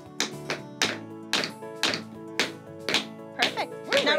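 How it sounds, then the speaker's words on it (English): A shoe toe tapping on a floor, about nine sharp knocks in a roughly even rhythm, close and clear with no talk over them. "Put that leg out, don't let it move, but you gotta tap your toe."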